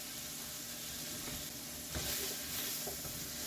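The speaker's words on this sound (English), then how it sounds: "You're going to give that a good stir." A spoon scrapes steadily through a hot pan of smothered chicken drumsticks as cassava flour is worked in, with a constant close sizzle of frying underneath and a few brief louder scrapes.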